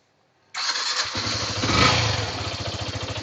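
A motorcycle engine fires up abruptly and settles into a steady, loud, close idle with a rapid throbbing pulse, alone without talk.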